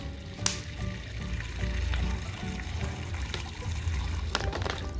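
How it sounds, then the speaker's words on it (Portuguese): Clear vinegar is poured generously over a rusty object, a steady liquid splash and trickle running for several seconds, fairly close and moderately quiet, with no one speaking. "Então já vou caprichar no vinagre aqui, de forma que ele cubra toda a superfície aí."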